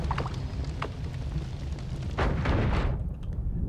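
A bomb blowing up in the video game Noita, a deep booming rumble that swells to a loud crackling burst and then trails off, set over a steady low game background.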